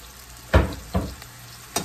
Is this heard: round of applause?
no